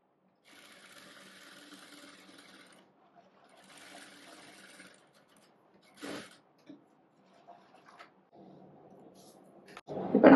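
A sewing machine stitches a churidar neck in short, quiet bursts of whirring separated by pauses, with a few soft handling clicks and a louder knock at the end.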